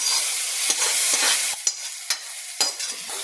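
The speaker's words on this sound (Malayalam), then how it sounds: "ഉള്ളി എല്ലാം മൂത്ത് നമുക്ക് കറിക്കകത്തോട്ട് ഇടാം" Hot oil sizzles steadily as fried onion tempering is stirred into a pumpkin curry, with a few sharp clinks of a spoon against the pan.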